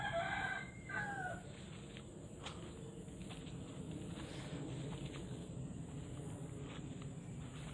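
A rooster crows once near the start, fairly close and clear, and then leaves a quiet, steady outdoor background for the rest of the stretch.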